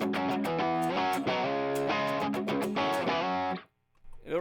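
A crunchy, mildly overdriven single-coil electric guitar with a boost pedal on and no amp gain, playing strummed chords and picked notes, bright and gritty, ending abruptly into near silence.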